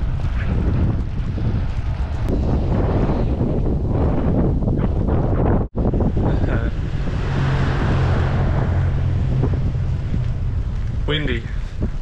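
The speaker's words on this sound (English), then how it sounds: "Windy." Strong wind buffets the microphone in a steady, loud roar during a cold storm, with a brief dropout midway and a faint low hum later on.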